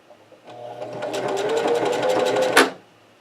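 A sewing machine runs in reverse to tie off a seam, a close rapid mechanical whir of stitching that builds for about two seconds and ends with a sharp click.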